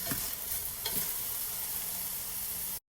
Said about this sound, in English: we're going to fry up our shrimp in this pan